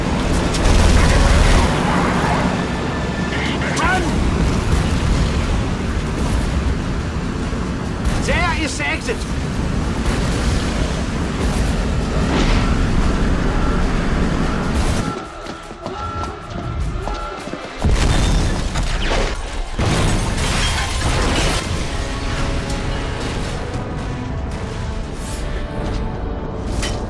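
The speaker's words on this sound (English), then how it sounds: "This facility will not survive the explosion." A facility explodes in The Saboteur, a long rumbling stretch of booms, crashes and debris with loud blasts, a brief lull partway, then more heavy detonations, with voices speaking over the din.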